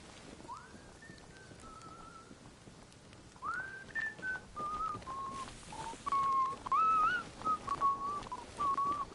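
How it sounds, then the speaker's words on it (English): A man whistles in Arma Reforger, a short series of fairly faint, sliding whistled phrases that rise and fall in pitch over quiet in-game ambience. "A whistling man."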